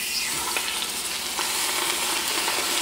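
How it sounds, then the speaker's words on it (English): Chicken breasts sizzle upside down in an Instant Pot, giving a steady, dense crackle of frying with no voices. "While that chicken is sizzling and getting good for us"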